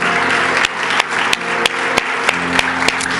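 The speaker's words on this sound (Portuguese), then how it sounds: "Vamos aplaudir esse Deus de amor." A church congregation at a Sunday evening service claps together in a steady rhythm, sharp unified beats roughly every third of a second, with a sustained wash of scattered clapping between them and an organ-like tone underneath.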